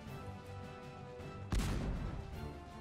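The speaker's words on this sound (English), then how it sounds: "Cannonball, fly quickly" A cannon fires in the Cossacks 2 strategy game, a single sudden loud boom that follows quiet battlefield ambience and decays into a rumbling tail.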